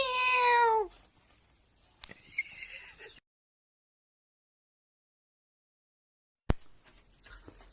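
A cat gives a loud, clear meow with a falling pitch, followed by a softer second call and faint rustling, then silence before a brief sharp click and low background noise.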